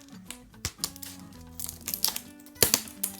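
Tiny scissors snip at the plastic blister packaging of an AtGames Sega Arcade Nano handheld console, giving close, quiet crisp clicks and crinkles in an irregular run of cuts.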